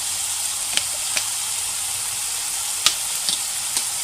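A vegetable spring roll filling, seasoned with vinegar, soy sauce and chilli sauce, sizzles in a hot pan with a continuous bright hiss and a few sharp crackles and pops.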